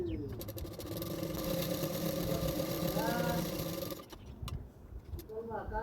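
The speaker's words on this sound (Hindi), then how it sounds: "इस तरह से मैंने फोल्ड करते और एक सिलाई कर दिया है" A sewing machine stitching a double katori blouse runs as a steady, close motor whir for about four seconds, then stops, leaving quieter room noise and small handling sounds.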